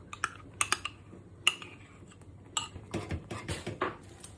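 A metal spoon stirs condensed milk into cooked sago in a pot, giving sharp scattered clinks and scrapes against the pot, close and fairly crisp, with quiet gaps between strokes.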